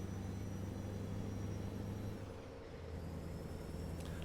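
In a truck-driving video game, a heavy truck rumbles steadily, then a brief hiss of air brakes as the engine tone dips and recovers.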